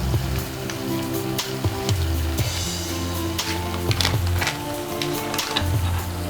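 Pulihora powder sizzles steadily in a hot pan over low flame while being stirred, a constant close crackle with scraping knocks from the spoon and no talking.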